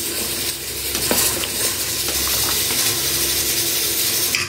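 Mutton curry being stirred in a pot, a steady sizzling and bubbling with light scrapes and clinks of a spoon against the metal, close and continuous.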